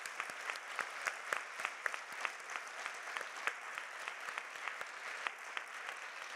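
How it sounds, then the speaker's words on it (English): An audience gives applause for Leadership Award winners at a prize ceremony, steady dense clapping from a moderately distant crowd, even and sustained throughout with no voices over it. "So another round of applause for our Leadership Award winners,"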